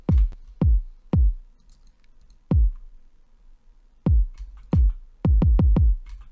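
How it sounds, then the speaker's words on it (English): Deep, punchy kick drum hits from a lo-fi pop song play alone in an uneven pattern, single thumps spaced apart, then a quick run of several kicks at the end. "And then lastly, I put the kicks in."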